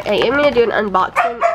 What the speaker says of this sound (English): Sorry, you're going to have to excuse the dogs.